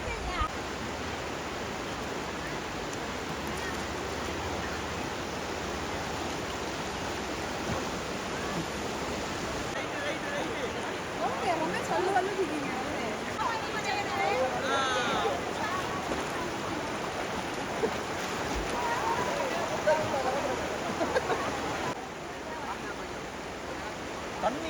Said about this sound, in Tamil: தண்ணி ஓட்டம் செம்ம ஸ்பீடாக இருக்கு.